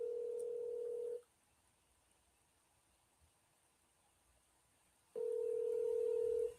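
A phone call rings out on the line: a steady electronic ringback tone sounds for about a second, falls silent for four, then returns, clean and alone.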